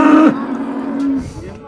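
A cow at a livestock market in Tokmok gives a single loud, close moo that fades into background murmur and faint market noise.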